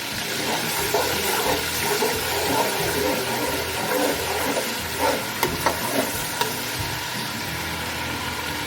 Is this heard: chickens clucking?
no